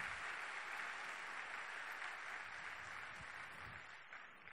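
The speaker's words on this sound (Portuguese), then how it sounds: "pode aplaudir o Senhor" A church congregation applauds during a service, a steady wash of clapping from many hands that stays fairly even, heard at a distance with no voices over it.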